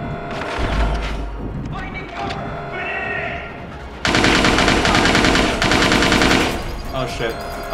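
Grenade blast and gunfire in the Watch Dogs 2 video game: loud bursts of shooting, then a dense, sustained roar of noise in the second half, with people talking over it.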